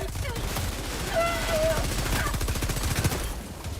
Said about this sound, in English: It tastes quite a lot like gunfire.